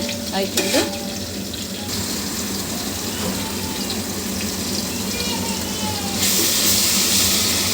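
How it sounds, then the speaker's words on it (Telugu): Green chillies frying in oil for a fried chicken biryani, a loud, dense, steady hiss of sizzling that carries throughout and grows louder near the end, with some low background hum. "ఆయిల్ పచ్చిమిర్చి వేగుతుంది కదా"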